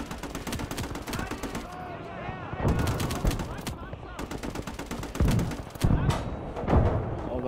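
Gunfire in the World War II game Call to Arms: Gates of Hell, with rapid machine-gun bursts and heavier thumping shots rattling close and loud, layered with voices talking over the fighting.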